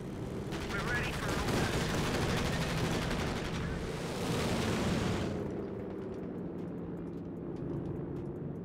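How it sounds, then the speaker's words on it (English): Long-range artillery bombardment in a World War II strategy game, with a steady roll of distant booms and rattling gunfire over the first five seconds that then thins to a quieter rumble. "Firing long range bombardment now."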